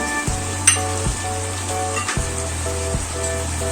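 Garlic and ginger paste frying in a pan for almond chicken, a steady close sizzle with a few stirring scrapes and clinks, and no talking.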